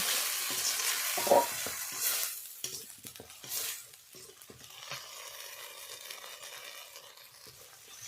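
Mustard paste and spices sizzle as they are sautéed in oil for a river rui fish curry. A loud burst of frying and stirring comes first, then it settles to a softer, steady crackle with no talking.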